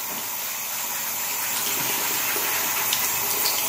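Makeup brushes rinsed under a running tap, a steady close rush of flowing water splashing into a sink, loud and continuous from start to finish.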